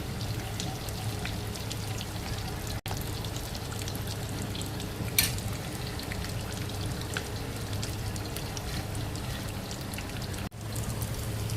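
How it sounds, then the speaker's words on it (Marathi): Vada sizzling in hot oil for several seconds, with a continuous crackling, rain-like fry and a brief clatter or two as the fritters are turned in the pan; no voices. "ते आपण तळून घेऊ. आपण ते एकदा पलटून घेऊया."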